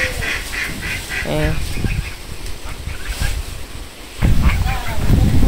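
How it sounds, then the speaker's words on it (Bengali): Domestic geese honk in short repeated calls at a village home during a storm, mid-distance, with wind rushing throughout and a heavier gust swelling near the end. "রাজহাঁস সারাদিন বাড়িতেই থাকে।"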